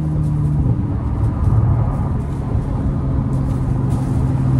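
Sustained low engine rumble from a car fitted with a Larini exhaust, built by RE Performance, holding a steady deep drone with slight swells, close and loud throughout.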